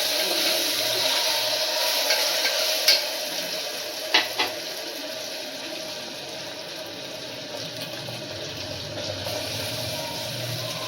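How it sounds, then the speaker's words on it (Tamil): Onions with ginger garlic paste sauté in a pan for brinji rice, giving a steady hiss of frying with a few sharp spatula knocks early on and no voice over it. "இதில் கொஞ்சமாக நம்ம இஞ்சி பூண்டு பேஸ்ட்டு சேர்த்து அதையும் வந்து நல்லா வதக்கி விடலாம்."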